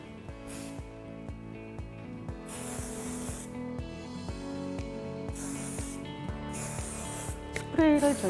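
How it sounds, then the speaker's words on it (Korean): A spray bottle mists onto hair from a distance during a haircut, giving several short hissing bursts in an irregular rhythm, fairly close and clear over a quiet background. "스프레이를 저희가 멀리에서 분사해서 들어가고요"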